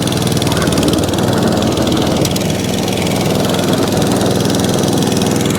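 A small Atco Balmoral cylinder lawn mower engine runs steadily and loudly up close, a continuous mower drone that holds constant throughout.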